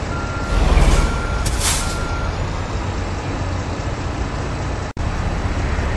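Kenworth W900 truck in the driving game American Truck Simulator: steady engine rumble with repeated reversing beeps, a loud hiss of air brakes early on, and a brief sharp dropout near the end.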